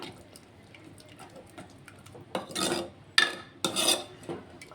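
A ladle stirs tomato chutney in a pan, giving light ticks at first, then three louder bursts of scraping and rasping as it drags through the thick mixture close by.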